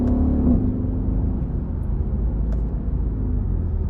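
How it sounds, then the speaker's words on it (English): Low, rumbling exhaust drone of a 2015 Mercedes E63s AMG wagon heard from inside while driving, a steady deep burble with a slight swell at the start. "So hopefully you could hear a little bit of the exhaust."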